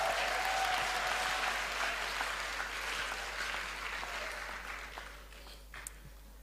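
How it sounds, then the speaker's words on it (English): Steady applause from a crowd at a police academy school seminar greeting the governor. It is moderately faint and gradually fades away, with no talking on top. "Please, again, give a big hand applause to the governor of the Police Academy."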